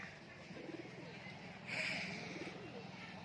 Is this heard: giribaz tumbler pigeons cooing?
yes